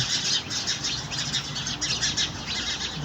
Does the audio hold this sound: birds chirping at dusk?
yes